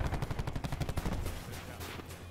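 Rapid automatic bursts from the Titan gun in Call of Duty: Black Ops 4, a fast rhythmic stream of close shots that loosens into a rougher, denser clatter toward the end.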